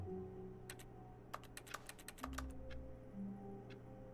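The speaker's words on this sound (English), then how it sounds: "I'm like typing." Keyboard typing in The Stanley Parable, bursts of quick, light key clicks in uneven runs over a low game hum, close and moderately quiet.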